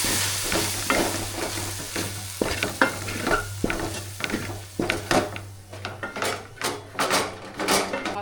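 Spice powder and chicken masala being stirred into a sizzling meal maker gravy in a pan, with repeated scraping strokes of a spoon over a steady frying hiss, close and fairly loud with no talk.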